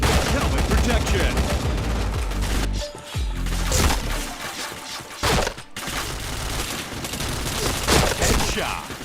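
Dense, continuous automatic gunfire from a shooting video game, loud and close with brief lulls, rapid bursts layered together, and a voice calling out faintly underneath.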